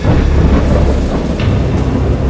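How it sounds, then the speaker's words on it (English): A heavy thunderstorm with steady, loud rain and deep rolling thunder rumbling underneath throughout, with no voices. "I know that I heard pearls of thunder and other tones which nature utters only in her wildest moods"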